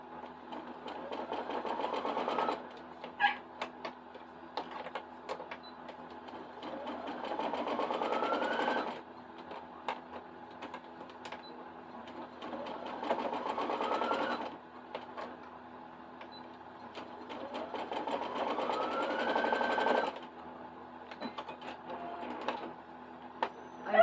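A sewing machine stitching a straight quarter-inch seam on a quilt piece, running in steady whirring bursts of several seconds with short pauses between, close and even, with no talking.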